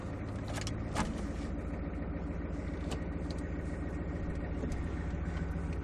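Diesel engine of a 3/4 ton Suburban truck heard from inside the cab while riding, a steady low drone with small clicks and rattles over it.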